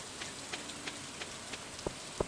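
Rain falling in the farming game Stardew Valley: a steady soft wash of drizzle with scattered droplet ticks and a couple of slightly louder drips, heard alone at low volume.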